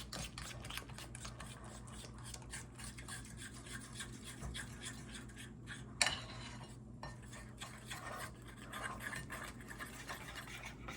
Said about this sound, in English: I switched over to a whisk, and you can see that it is all whisked up now